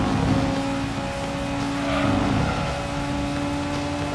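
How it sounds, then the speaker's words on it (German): A 2-litre naturally aspirated four-cylinder car engine in Gran Turismo 2 drones in a steady, loud hum with tonal harmonics. It holds nearly constant and plays alone. "Ein 2 Liter Vierzylinder-Motor"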